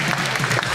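Studio audience applauding on a Pakistani TV talk show, a short burst of dense clapping that stays loud and steady throughout.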